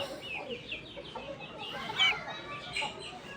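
Chickens and a rooster kept as Turkish Arap breed stock cluck in a series of short, rhythmic calls with one sharper squawk midway, moderately near over steady yard background.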